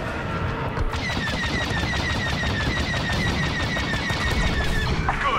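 Rapid, continuous blaster gunfire in the video game Star Wars Battlefront 2 rattles on without pause, with a high, whistling tonal streak running over the dense shots.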